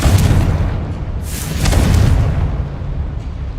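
A Confringo fire spell explodes in Hogwarts Legacy, producing a loud, close, rumbling blast that swells again midway before tailing off.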